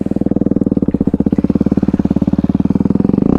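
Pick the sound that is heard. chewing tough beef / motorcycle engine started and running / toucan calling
motorcycle engine started and running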